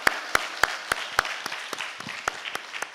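A church congregation applauds as the pastor comes forward, with a short run of sharp, distinct claps standing out over a softer background patter of many hands.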